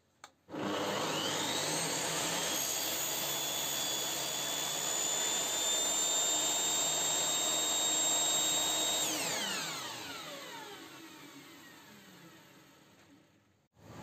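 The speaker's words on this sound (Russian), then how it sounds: "И делаем первый пропил." A stationary circular saw with a preset blade height makes a first cut into a clamped wooden beam: a sharp click, then a loud, steady high whine for about eight seconds before the blade spins down and fades, with no talking.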